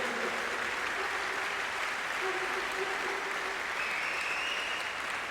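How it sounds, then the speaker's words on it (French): A crowd at the final of a Cesta Punta tournament applauds the players one last time, a dense wash of distant clapping and cheering over a steady hall ambience, with faint voices and tones mixed in. "On peut les applaudir une dernière fois, mesdames et messieurs."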